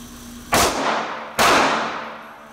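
A Sig P365 pistol fires two sharp, loud shots about a second apart, each trailing off in a short echo.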